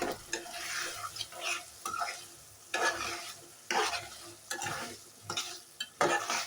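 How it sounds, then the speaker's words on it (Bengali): Broad bean seeds and chunks of potato frying in a pan are stirred in repeated scraping strokes, each burst of clatter and sizzle followed by a quieter simmer, close and fairly loud. "এখন নেড়ে ছেড়ে দেব।"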